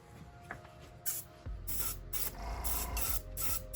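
An airbrush or spray can applies paint to a 1/24 scale Chevrolet Lumina NASCAR model car body in short bursts of close, hissing spray, several in a row with brief pauses between them.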